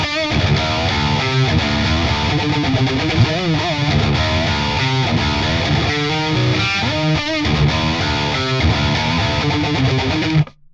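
Sterling Majesty electric guitar on the neck pickup alone, heavily distorted and slightly warmer, playing loud rhythmic riffs and chords that cut off abruptly at the end.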